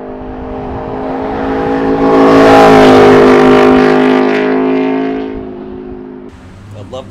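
An Aprilia RSV4 RF sportbike engine revs loudly and up close, rising to a sustained high-rpm wail in the middle before easing back down toward idle.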